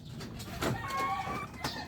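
A chicken clucks a few times up close in a quiet farmyard, short soft bursts with faint background noise.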